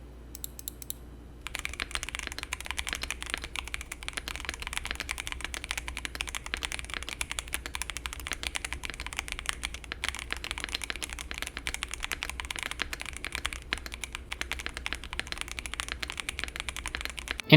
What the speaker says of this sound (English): In its stock form, the V65 is a pretty quiet keyboard